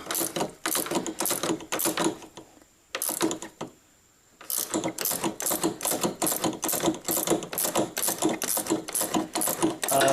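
A pass-through ratchet wrench loosens the top shock mount nut on a Fiat 500 front strut, giving loud, close, rapid ratcheting clicks in quick repeated bursts with a short pause midway, no voices.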